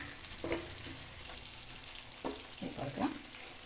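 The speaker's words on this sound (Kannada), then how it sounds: "ಬದನೆಕಾಯಿ ಬೇಯಲಿ ಆಮೇಲೆಲ್ಲ ಮಸಾಲೆನ ಮಿಕ್ಸ್ ಮಾಡೋಣ" Eggplant pieces for an ennegai-style curry fry in oil in a pan, a soft steady sizzle broken by several faint scraping stirs, with no talking.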